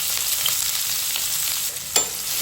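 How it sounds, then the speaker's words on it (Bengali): Chopped onion and chili fry in hot oil in a pan, a close, even hiss of sizzling with one brief clatter near the end and no talking. "তেলটা যখন গরম হয়ে এসেছে, এই পর্যায়ে আমি এর মধ্যে দিয়ে দিয়েছি কেটে রাখা পেঁয়াজ ও মরিচ।"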